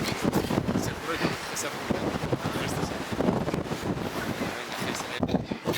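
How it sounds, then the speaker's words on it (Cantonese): Strong northwest wind at a geyser field in Iceland roars and buffets steadily against the microphone, a gusty rushing noise that never lets up. "喺度吹緊西北風。"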